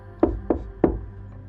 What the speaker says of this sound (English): He knocked again.